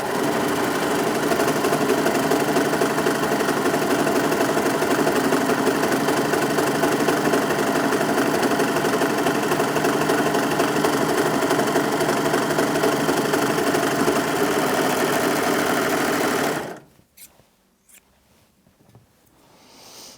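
A Brother 3034DWT overlocker sews a seam, a loud, steady mechanical whir and rapid stitching rattle running continuously for about seventeen seconds before stopping abruptly, followed by a few faint handling clicks.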